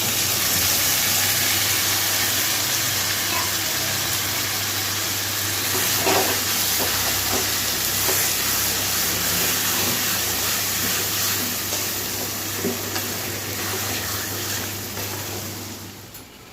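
Marinated mutton sizzling loudly in a pan, a dense continuous hiss with occasional stirring clatter, steady and close, over a low hum.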